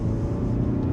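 A 2026 Mazda 3 hatchback in sport mode and second gear, driving on a back road, gives a steady, close, low engine and road rumble that runs continuously without any break.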